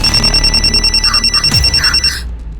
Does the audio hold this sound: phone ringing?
yes